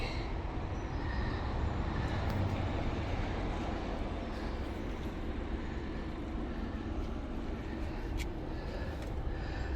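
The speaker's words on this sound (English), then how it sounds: "gosh, more trains" Low, continuous rumble of a train rolling past at a distance, a steady drone with faint rattles and squeaks on top.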